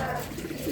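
Racing pigeons give a short, soft, low coo close by in a brief moment of calm.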